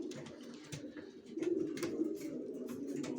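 Young long-distance racing pigeons bred in a home loft coo and murmur in a close, continuous low burble, growing louder partway through, with faint scuffs and wing movements around them.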